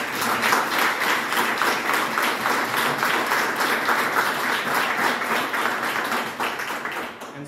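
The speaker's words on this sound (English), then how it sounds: "let's give them a round of applause" Audience applause at a city press conference, a steady patter of many hands clapping that carries through most of the stretch before beginning to taper off near the end.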